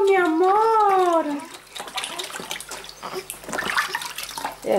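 Warm water splashes and pours in a baby's bath, lapping and trickling close by after a high, sing-song adult voice at the start, with soft talking continuing over the water.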